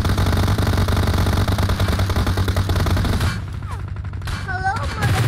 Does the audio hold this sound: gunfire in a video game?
yes